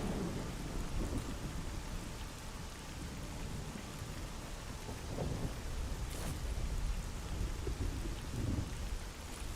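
Rain and thunder in the video game STALKER GAMMA, a steady dense wash of rainfall with low rumbling thunder rolling underneath and a sharper crack partway through, continuous and fairly close.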